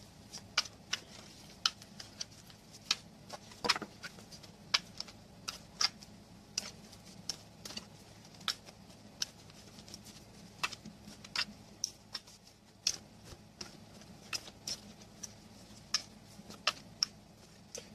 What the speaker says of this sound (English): Sorry to shuffle so long, but I just want to make sure it's mixed up real good